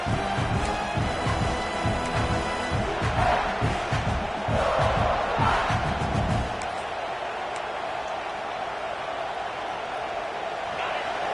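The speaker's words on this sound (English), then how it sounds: "This crowd, full throat, splitting the eardrums" A football stadium crowd roars at full volume for several seconds, then drops to a lower sustained rumble, with a voice audible over the noise.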